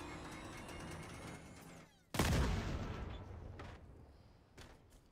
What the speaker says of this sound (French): Ah, l'explosion, elle n'est pas folichonne.